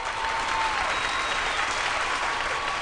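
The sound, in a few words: audience applause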